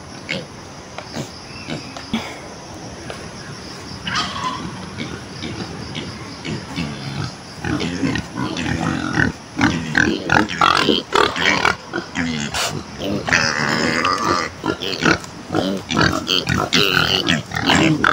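Pigs grunting and oinking at a morning feeding on a rural farm, close and loud in a busy, irregular chorus that grows more intense toward the end, with people talking throughout.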